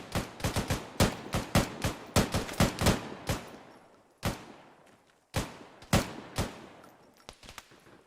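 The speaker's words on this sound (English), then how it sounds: "I'm blind firing on the direction of tracers" Gunfire from a tactical military shooter: a burst of sharp, closely spaced shots that thins into scattered single reports, each with a decaying echo tail, loud and with no talk over it.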